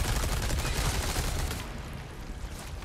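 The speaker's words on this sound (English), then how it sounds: "Alright, submachine gun time." Rapid bursts of submachine gun fire in the Resident Evil 4 Remake video game, loud and dense for the first half, then thinning out into quieter scattered shots and game ambience.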